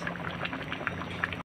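A pot of bean stew with pork hock and cabbage bubbles and simmers steadily, with a continuous low rumble and faint popping, close by and fairly quiet.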